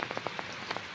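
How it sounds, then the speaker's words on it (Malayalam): Heavy rain pours down in a dense, continuous patter, with individual drops tapping a nearby surface. No voices are heard. "നല്ല മഴയാണ് കേട്ടോ"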